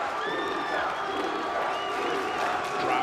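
A wrestling arena crowd keeps up a steady roar of cheering with scattered whoops and applause, filling the whole moment without pause.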